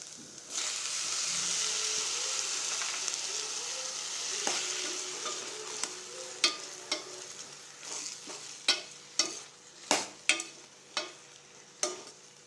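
Brinjal and tomato cook together in a pan for a bachadi, a soft frying hiss under a run of sharp spatula scrapes and knocks that grow more frequent and louder toward the end.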